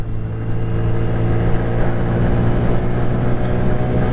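Throttle opening on a small 125cc Honda Monkey motorcycle, a continuous loud engine drone heard up close that holds steady with slight rises as it pulls, with no voices.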